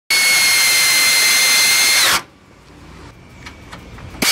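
A power tool spins loose bolts on a 2007 Honda CR-V during head gasket repair, giving a loud steady high-pitched whir for about two seconds that winds down abruptly, followed by quiet clinks and a sharp click at the end.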